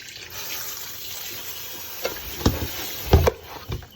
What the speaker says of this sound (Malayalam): ഇനിയിപ്പോൾ ഇതിൻ്റെ അകത്തേക്ക് വെള്ളം ഒഴിച്ചിട്ട് വെക്കാം.